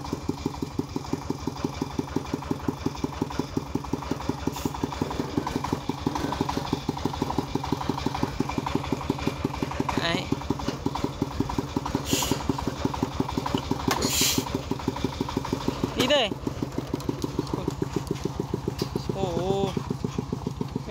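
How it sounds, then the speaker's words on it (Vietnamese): A worn old motorbike engine runs steadily for a long stretch, a loud rhythmic chugging close by, with people talking over it at times. "Phải chạy xe máy lên, xe rách rách này lên để đuổi quay nhá."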